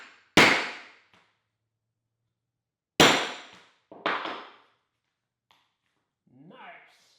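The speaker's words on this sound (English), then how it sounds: "you just line it up and strike it with a hammer." A hammer strikes a metal hole punch backed by a piece of wood to cut car sound-deadening material. Three sharp, loud blows land close by with silence between them, followed by a faint voice at the end.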